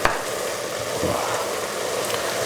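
Beef simmers and sizzles in a pan as red wine reduces, with a spoon stirring and scraping through the mixture, a steady close bubbling hiss.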